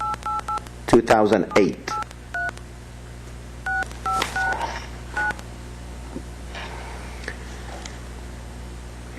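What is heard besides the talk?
telephone keypad dialing tones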